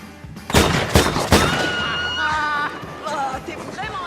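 Gunfire in an action film, three sharp loud bangs in quick succession followed by ringing tones, shouting and crowd-like noise, with voices mixed in throughout.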